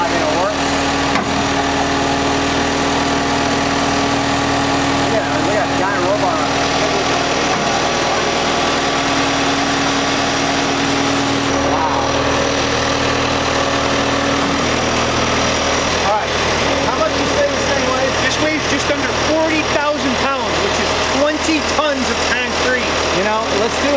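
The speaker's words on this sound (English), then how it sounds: "this is a knuckle crane we had custom built just to deliver the Oz Saferoom" The engine of a custom-built 100-ton knuckle crane runs steadily at idle, a loud, droning rumble with vibrating undertones that shifts slightly in pitch, with people talking over it.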